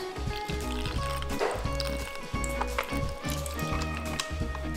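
Cold water is poured steadily for a few seconds, a continuous splashing, gurgling fill heard up close over a busy background.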